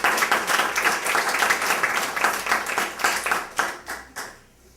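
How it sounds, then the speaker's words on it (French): Audience applause closing a talk to honour a caterer, dense clapping from a room of people that thins out and fades to quiet near the end. "je pense qu'on peut lui faire une bonne main d'applaudissement"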